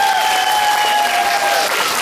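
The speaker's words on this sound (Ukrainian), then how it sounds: "послухайте, які шалені оплески вам батьки дарують" Parents in a Kyiv concert hall applaud a children's folk dance ensemble's debut, loud sustained clapping filling the room, with a thin steady whistling tone riding above it for most of the stretch.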